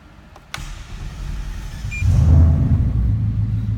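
A Ford Mustang engine starting up nearby: a sharp click, then a brief crank, and the engine catches into a loud, steady low rumble.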